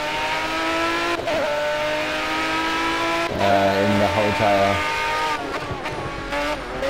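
Race car engines and tyres in the video game Project Cars, a sustained engine drone with shifting revs and brief tyre squeal, while someone talks over it.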